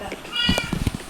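A cat meows once in a short, rising cry, close by, with a person talking over and around it.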